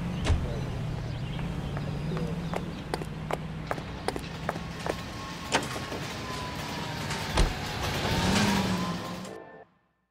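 A car drives in the video game L.A. Noire, with a low steady engine rumble under sharp clicks and thumps, a rising swell near the end, then an abrupt cut to silence; no talk is heard.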